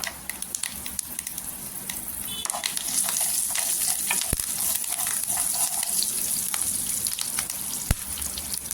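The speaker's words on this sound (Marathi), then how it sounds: "फ्रेश कढीपत्ता टाकायचा आणि फोडणी म्हणजे हिंग टाकायचं चिमूटभर" Fresh curry leaves and a pinch of asafoetida crackle and sizzle in hot oil for a Mumbai-style vada pav tempering, a steady hiss broken by sharp pops and spatters, with no talking.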